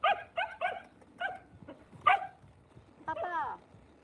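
A dog wearing a cone on its head gives a quick run of close, sharp barks, then a drawn-out rising and falling whimper, with faint voices in the background.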